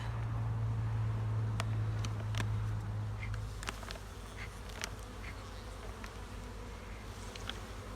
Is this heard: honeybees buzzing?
yes